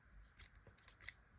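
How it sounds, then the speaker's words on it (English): Scissors snip through crochet yarn with a few quick, soft clicks and shearing sounds, faint and close, after finishing a round of an amigurumi alien's legs. "cut your yarn"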